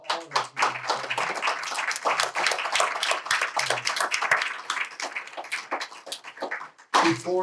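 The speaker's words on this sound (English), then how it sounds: "I want to give a big round of applause." Sustained audience applause at a Norfolk County district attorney candidates forum, dense steady clapping from a full room lasting several seconds, briefly dipping before a final burst, with a voice faintly heard near the end.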